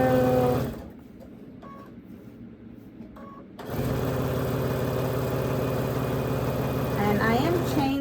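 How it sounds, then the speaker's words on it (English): Home sewing machine chain-stitching baby quilt pieces at a quarter-inch seam, a steady mechanical whir that pauses briefly before resuming and running continuously, heard close by. "And I am chain sewing"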